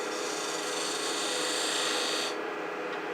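A 3/8 inch detail gouge cuts a rolling bead on a small wooden twig pot spinning on a wood lathe, giving a steady, close, rasping scrape that runs for about two seconds and then stops abruptly.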